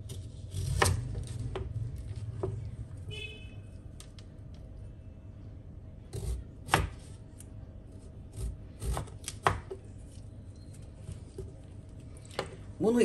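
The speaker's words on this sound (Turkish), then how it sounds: "Soyduğum pancarları şimdi" Peeled red beets are chopped with a knife on a board, giving sparse, sharp chops spaced irregularly, fairly close, with quiet surroundings and occasional talking.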